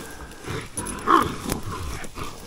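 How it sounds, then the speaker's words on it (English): A dog at a wild hog catch makes a few short, rough vocal sounds at close range amid rustling and outdoor noise. "Noah, grab this dog"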